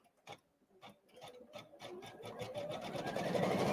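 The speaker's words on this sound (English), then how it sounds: "we can press start again and we can start stitching this out" An embroidery machine starts stitching a Christmas card design, its rapid rhythmic needle clatter building from a few slow stitches into a steady, quick mechanical chatter, fairly quiet and close.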